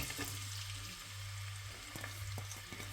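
Chopped onion sizzles in hot oil, a loud, steady frying hiss with a low hum underneath and small crackles throughout, all close up with no talking.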